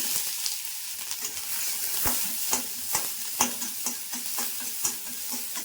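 Chopped onion fries in a little oil with a continuous close sizzle, broken by regular sharp clicks and scrapes of stirring in the pan.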